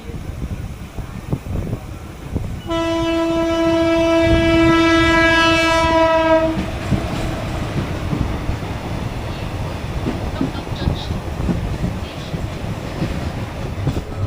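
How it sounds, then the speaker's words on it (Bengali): A Mecheda–Digha local train sounds a long, loud, steady horn blast of a few seconds as it pulls out of the station, followed by rolling wheel and carriage rumble. "আর চলো আমাদের ট্রেনের ছেড়ে দেওয়ারও সময় হয়ে"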